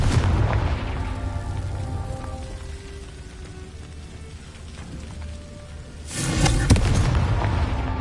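Confringo fire-blast spell in the video game Hogwarts Legacy: a loud, dense explosive burst that fades into a crackling, rumbling tail, followed by a second sharp blast near the end.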